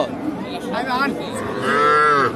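A cow moos loudly nearby at a cattle market, two drawn-out bellowing calls, the second longer, over a low murmur of background noise.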